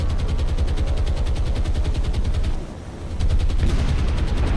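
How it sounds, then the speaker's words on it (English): Loud, continuous gunfire and explosions in the naval combat video game War on the Sea, with rapid rhythmic bursts that briefly dip before resuming at full intensity, with no voices. "all these explosions are looking very positive"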